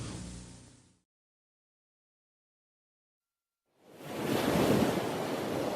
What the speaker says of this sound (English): waves break at the coastlines, sometimes strong, sometimes weaker